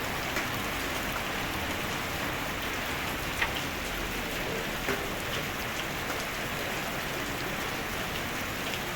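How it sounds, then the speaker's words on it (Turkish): Dense, steady rain pours down with a constant hiss, broken only by a few louder drops, in Demirci, Turkey, in late November. "çok yağmur yağıyor"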